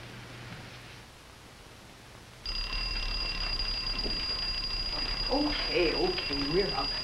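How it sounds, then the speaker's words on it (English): An alarm clock suddenly starts ringing, a steady high continuous tone that cuts in partway through and keeps going, while a person speaks briefly over it. "I'd have heard that alarm in my dreams and slept on."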